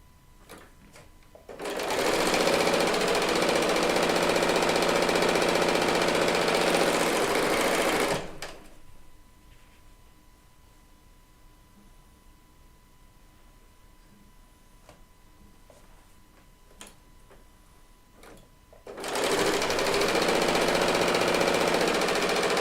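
A serger overlocker chain-stitching quilt fabric runs in two loud, steady bursts of rapid mechanical whirring, separated by a quieter stretch with light handling clicks.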